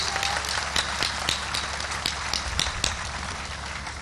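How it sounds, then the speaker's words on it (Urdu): Crowd applauding for hospital staff at the opening ceremony of a tehsil headquarters hospital in Punjab: steady, fairly loud clapping from many hands, with a few sharper individual claps standing out. "میں آپ کو کہوں گا کہ میرے ساتھ مل کر ان کے حق میں زوردار تالیاں بجانا ہے"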